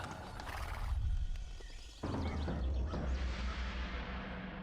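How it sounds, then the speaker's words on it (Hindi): Cartoon horses whinny loudly while hooves clip-clop at a steady trot, the neighing and hoofbeats close and continuous throughout. "अरे वाह, मेरे घोड़े तो कमाल के हैं"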